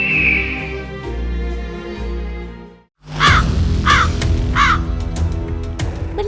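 Crows scavenging at a garbage dump call out in three or four loud, harsh caws in the second half, following a steady, rumbling backdrop.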